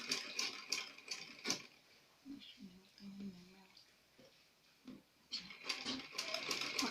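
A sewing machine top-stitching fabric ruffles, quick mechanical whirring bursts of stitching separated by pauses, close and moderate, with a voice speaking between runs.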